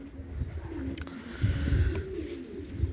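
Racing pigeons coo and chirp inside a young-bird loft, a steady murmur of soft, overlapping calls with brief chirps, moderately close and heard alone without speech.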